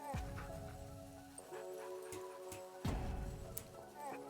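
A fluffy shepherd dog gives a few short yips and whimpers close by, separated by brief pauses over a low background hum.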